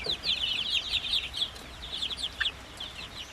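Zampen chicks about a month old clucking and peeping in a steady run of high, quick calls, several birds close by with faint background noise and no talk.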